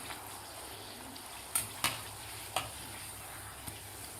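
Puri bread fries in hot oil in a home kitchen, a faint steady sizzle with a few sharp crackling pops and stirring clinks scattered across a few seconds.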